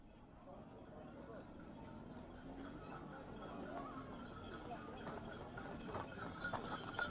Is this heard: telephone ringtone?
no